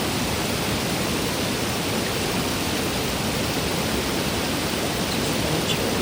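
A steady, dense roar of rushing water at Sandstone Falls, loud and close, unchanging throughout, with no voices.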